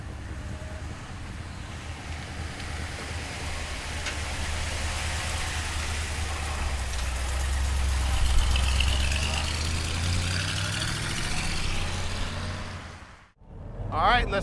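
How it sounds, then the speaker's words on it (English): A 1955 Ford Thunderbird engine runs with a low, steady rumble that swells slightly as the car moves off, then cuts out abruptly near the end. "All right, let's take the T-Bird for a ride. 1955."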